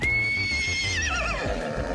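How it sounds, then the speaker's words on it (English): Horse neigh used as a goal celebration sound in the football video game FIFA 23, a single loud, clear whinny with a falling, wavering pitch, heard alone over a low rumble. "picked a horse neigh for the signature goal sound"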